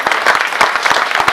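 Dense crowd applause at a BJP municipal election rally in Delhi, loud and close, a continuous burst of many hands clapping throughout.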